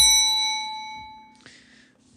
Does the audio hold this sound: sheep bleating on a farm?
no